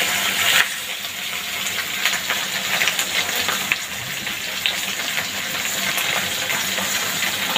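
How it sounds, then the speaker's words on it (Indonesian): Food frying in a pan for an evening meal, with plain omelette and salted fish on the menu: a steady, close sizzle and crackle with scattered sharp pops and spatters, continuing evenly throughout without talk. "Jadi aku lagi goreng dok."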